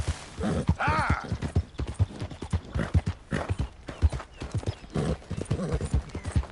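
A horse galloping in the video game Red Dead Redemption 2, rapid rhythmic hoofbeats with a brief whinny, steady and close throughout.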